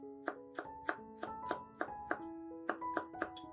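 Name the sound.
finely chopping a sprig of dill with a knife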